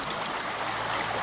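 A small creek beside a highway between Lakeport and Hopland flows steadily, a close, continuous broadband rush of water without any voices.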